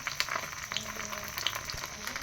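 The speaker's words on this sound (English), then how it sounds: "you can hear the sizzle" Spring rolls frying in hot olive oil, a close, fairly quiet continuous sizzle with crackling pops scattered throughout and no talk.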